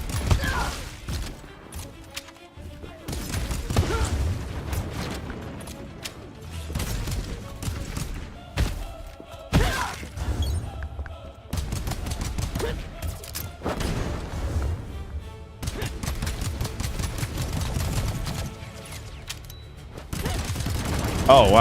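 Rapid full-auto gunfire in the sci-fi video game Synthetic Man, sustained bursts of dense shots with thuds and booms, heard over game music and effects while someone talks intermittently.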